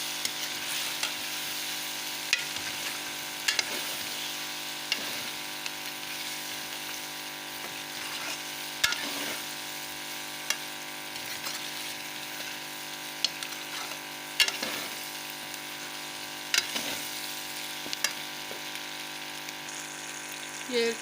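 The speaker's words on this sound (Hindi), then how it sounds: "और ये चिकन शामिल कर रही हूँ जो पहले मैंने फ्राई करके रखा था। इनको अच्छे से भूनूंगी।" Chicken that was fried earlier is being stir-fried (bhuna) in a pan, giving a steady soft sizzle with repeated scraping and stirring clicks from the utensil, quite faint.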